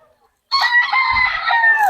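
A rooster crows loudly and close by, one long drawn-out call after a moment of silence.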